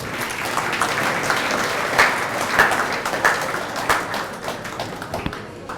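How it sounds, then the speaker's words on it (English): Sustained applause from a banquet crowd at a Serbian Statehood Day fundraising dinner, dense steady clapping filling the room for several seconds with a few sharper individual claps standing out. "So we should applaud and welcome Mr. Alex Glumac."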